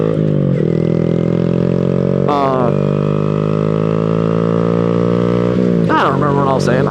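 A Honda Grom motorcycle engine drones steadily and close, rising in pitch as it pulls away from a green light, with a couple of quick shifts or revs and a rider talking over it at times.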